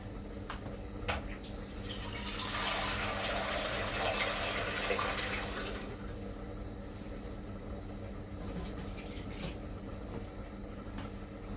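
Kitchen tap water pours into a cooking pot, swelling to a loud, full gush for a few seconds before settling back to quieter trickling and light clinks nearby.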